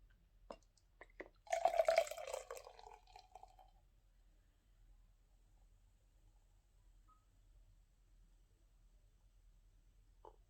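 Brewdog Layer Cake beer poured into a glass: a short, fairly close splashing gush lasting about two seconds, followed by near silence with a faint low hum.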